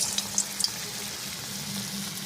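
Rohu fish frying in a pan, a soft, even sizzle close by with a few light crackles and taps early on, no voices.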